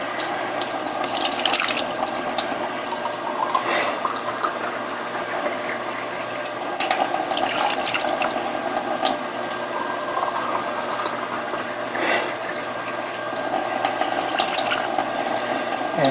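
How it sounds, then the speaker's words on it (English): Tap water runs steadily into a container being filled in a home kitchen, a continuous close rushing and splashing with no talk. "Now what I'm going to do is fill this thing up 3 times with water"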